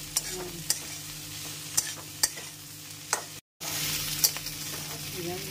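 Ivy gourd (kundru) curry fries in a pan with a close, steady sizzle, broken by sharp spatula taps and scrapes as it is stirred. A brief dropout comes partway through.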